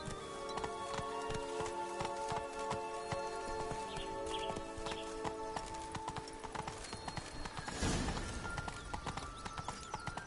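A horse gallops in The Witcher 3 video game. Steady, rapid hoofbeats clip-clop continuously over a layered game soundtrack, with a brief whoosh of effects partway through.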